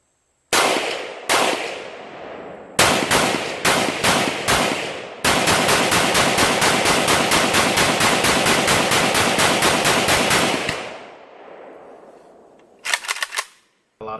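An AK-47 rifle emptying a magazine at an outdoor shooting range: a few separate loud shots, then a long rapid string of close gunfire, a pause, and a brief final burst.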